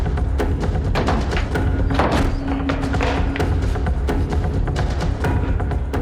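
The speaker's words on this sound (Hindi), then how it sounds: "दरवाजा बंद है। तोड़ो से।" A locked door is forced open in a crime drama scene, with a dense string of heavy thumps and bangs over a loud, busy background.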